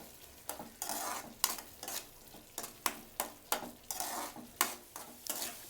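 Tomato masala paste made with dry coconut, dried red chillies and cinnamon fries in a pan for tomato rice, with repeated close scraping stirs over a steady sizzle.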